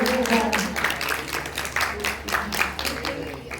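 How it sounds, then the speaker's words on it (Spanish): An audience at a children's Christmas story contest applauds for a young girl, lively, uneven clapping up close with crowd murmur mixed in. "Un aplauso para Luciana por su grupo"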